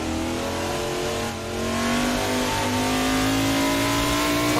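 A classic Trans Am race car in the Assetto Corsa racing game, its engine loud and close, rising steadily in pitch as it revs and accelerates, with a brief dip before climbing again.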